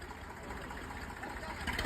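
A tractor engine runs steadily during a Ganpati arrival procession, a continuous mid-pitched rumble with a slight knocking texture and no clear speech.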